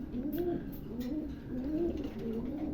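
A pair of Roman Andalusian pigeons coo in soft repeated rolling phrases, close by and steady over a faint background hum, with no talking.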